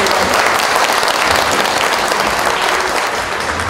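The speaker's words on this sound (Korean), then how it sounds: "여러분, 박수 부탁드리겠습니다." An audience at a Korean business agreement signing ceremony, just before a concert, applauds steadily and loudly, a dense unbroken clapping that holds for the whole stretch with no voices over it.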